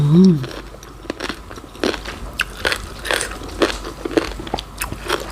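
Raw cabbage eaten alongside spicy som tam with shrimp, salmon and pork sausage, bitten and crunched in several close, crisp bites with chewing between them, and a brief voice sound at the start.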